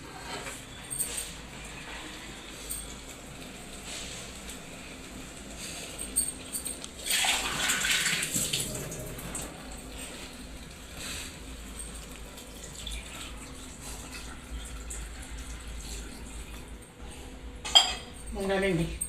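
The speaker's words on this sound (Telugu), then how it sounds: "ఇందులో ఇంకా కొంచెం వాటర్ వేసుకుంటాను నేను." Water pours into a pot of vanjaram fish curry, a rushing splash swelling in the middle of the stretch amid clinks of utensils, with a person talking quietly over the kitchen sounds.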